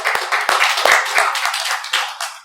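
A church congregation at a worship service applauds together in praise, with dense, overlapping claps that are near, lively and fairly loud for a few seconds.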